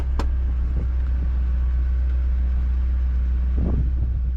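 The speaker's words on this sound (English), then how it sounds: "Old coach is running nice. It's pulling out and shifting good." A 1976 GMC motorhome engine drones with a loud, steady low rumble from inside the cab while pulling out and shifting, with a couple of brief knocks or thumps over it.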